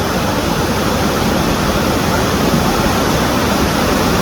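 Waterfall at Turkey Creek Nature Preserve: a loud, close, unbroken rush of falling water, dense and even throughout with no other sounds.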